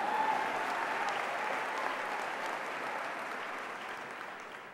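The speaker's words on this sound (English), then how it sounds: "you guys can clap." An audience at a 2015 Benedictine College valedictorian graduation speech breaks into sustained, dense applause, loud at first and tapering slightly over nearly five seconds, with no talking over it.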